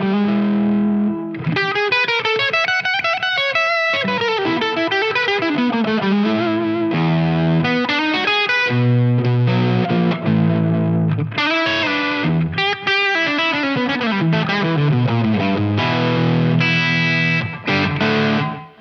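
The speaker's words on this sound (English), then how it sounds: "I like to click on a little bit of slap delay for this tone." Overdriven electric guitar with a short slap delay, playing a loud, continuous phrase of sustained notes and chords with quick runs throughout.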